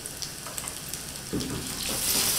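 Onions frying in a pan for chicken curry give a continuous close sizzle that swells louder toward the end, with no voices over it.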